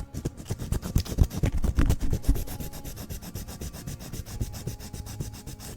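Close, rhythmic rasping of sandpaper rubbing back and forth over wood by hand, steady strokes repeating quickly, louder at first and then settling into an even pace.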